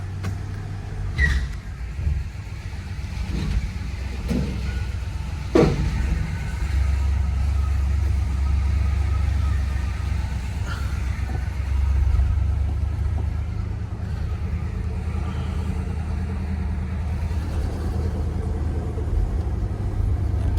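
A one-owner 1986 Chevrolet Caprice on a test drive gives a steady low engine and road rumble from inside the cabin, with a few faint knocks and no talk.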